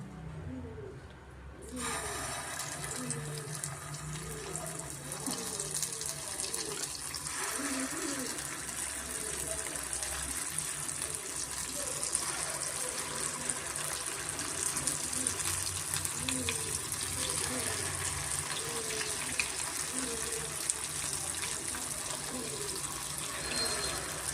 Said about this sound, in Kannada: ಮೀಡಿಯಂ ಫ್ಲೇಮಲ್ಲೇ ಒಂದು ಎರಡರಿಂದ ಮೂರು ನಿಮಿಷ ನಾವು ಬೇಯಿಸ್ಕೊಬೇಕಾಗುತ್ತೆ